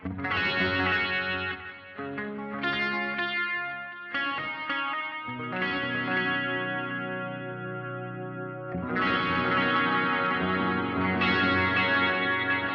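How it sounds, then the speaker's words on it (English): Electric guitar chords and single notes played through a chorus on a BOSS GT-1000 feeding a BOSS RE-202 Space Echo tape echo, with the dry signal off, giving shimmering, wavering, distorted-edged repeats that ring and overlap continuously. "I've just routed my GT1000 so that I've got a chorus before the tape echoes."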